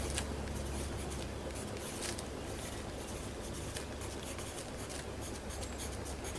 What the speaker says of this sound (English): actually write it on the tag